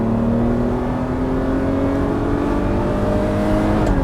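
Ferrari 512BBi flat-twelve engine revving in a workshop, a loud, close, sustained drone that climbs gradually in pitch and then eases off, with no speech.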